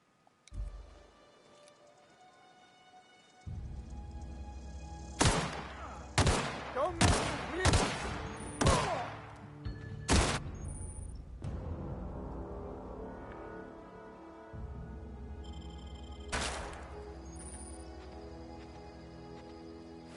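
Gunfire in the video game The Outer Worlds, a quick burst of about six loud shots over a couple of seconds, then one more shot later, against steady droning background music.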